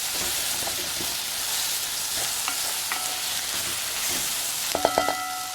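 Saltfish stirred in a hot frying pan: a steady sizzling hiss with soft scraping strokes and a few light clinks of the utensil against the pan near the end.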